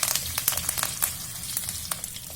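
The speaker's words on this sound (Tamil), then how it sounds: "பூண்டு ஓரளவு வதங்கட்டும்." Garlic fries in a pan with fenugreek, cumin, dried red chillies and curry leaves for a bitter gourd tamarind curry, a soft, quiet crackling sizzle with small scattered pops.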